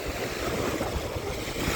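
Large waves washing continuously on the Baltic shore at Juodkrantė, Lithuania during a bream fishing trip, a steady broadband surge with wind noise and no distinct breaks.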